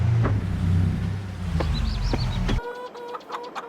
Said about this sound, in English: All the chickens successfully over into the new chicken pen.